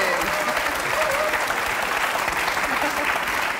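A studio audience at a Cologne talk show claps steadily throughout, a dense, even wash of applause with voices faintly mixed underneath.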